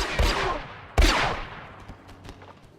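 Gunfire from the Star Wars: The Old Republic video game bursts out in two loud, close blasts, each followed by a rumbling decay and scattered fainter pops.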